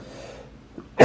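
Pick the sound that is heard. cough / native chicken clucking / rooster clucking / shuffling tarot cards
cough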